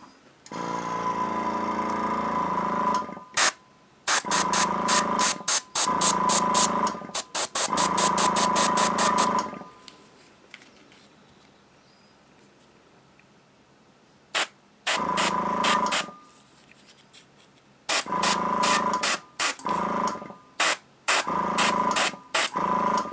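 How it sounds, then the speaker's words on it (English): An airbrush sprays paint onto a miniature in light, dry coats for rust weathering, with repeated hissing bursts of a second or two separated by pauses and a long quiet gap midway. "I will be spraying very dry, like light coats, letting them dry in between."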